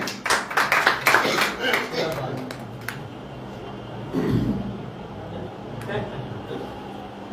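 An audience at a poetry gathering claps for a poet in a brief, loud burst that quickly thins to scattered claps, followed by someone speaking.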